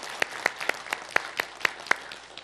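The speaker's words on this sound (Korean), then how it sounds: "특별히 기도에 승리한 우리 자녀들에게 박수 한번 합시다" A small church congregation claps for the children after a prayer at a New Year dawn service, giving about nine sharp, spaced claps over a couple of seconds, close and fairly quiet.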